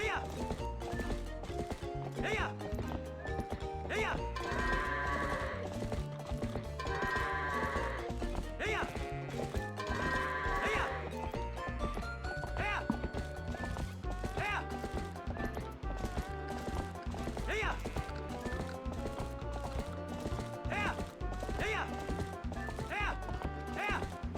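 Horse hooves clip-clop steadily through a game scene from The Legend of Zelda: Twilight Princess HD, with goats bleating now and then over busy game music, while a person talks throughout.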